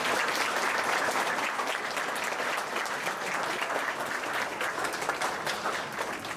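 Sustained applause from an audience at a school olympiad award ceremony, dense steady clapping filling the room throughout with no pauses.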